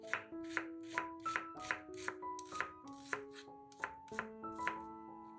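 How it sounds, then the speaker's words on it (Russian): An onion is chopped into cubes with a knife on a cutting board, a steady run of about fifteen crisp, close knocks at an even rhythm, with no voices. "1 луковицу нарезаем кубиками."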